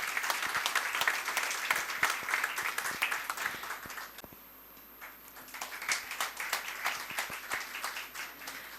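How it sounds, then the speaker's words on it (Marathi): Audience applause welcoming economist Uday Tardalkar at a Marathi talk on investor grievances, dense steady clapping from a crowd that dips briefly midway and then swells again, with no talking over it. "जोरदार टाळ्या वाजवून आपण त्यांचं स्वागत करूया"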